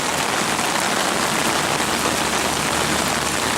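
Heavy rain falls steadily on surfaces during Hurricane Harvey, a dense, continuous hiss of downpour with no pauses, close and loud.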